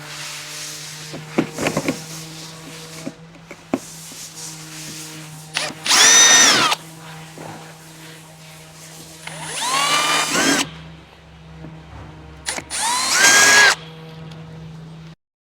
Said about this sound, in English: Now I can grab an 8mm drill and put my nuts in.